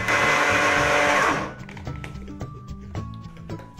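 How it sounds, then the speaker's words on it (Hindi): An electric mixer grinder jar whirs loudly while grinding baked bati dough balls, then cuts off after about a second and a half, leaving rattling thuds and clatter as the jar settles. "सबसे पहले ग्राइंडर जार को इसके ऊपर डालेंगे मिक्सर में और इसे ढक देंगे और ग्राइंडर जार को चालू।"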